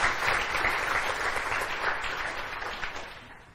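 Applause from a conference audience at a security talk, a dense steady patter of many hands that holds for several seconds and slowly thins out toward the end.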